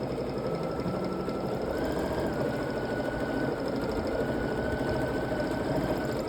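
A sewing machine runs steadily while quilting an Irish chain quilt top, its motor giving a continuous mid-pitched whir with rapid stitching chatter, close and unbroken throughout.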